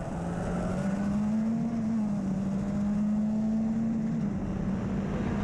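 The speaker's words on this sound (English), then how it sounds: "That little 1600cc Ford engine screaming its heart out as he comes up the main straight there." A Formula Ford 1600cc Ford engine screams down the main straight of a Scottish championship race, a steady high-revving drone held loud and constant throughout, no voices.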